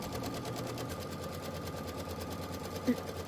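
A sewing machine runs a quilting stitch through fabric and batting on a patchwork flag block, giving a steady, rapidly pulsing whir up close while a voice is faintly present.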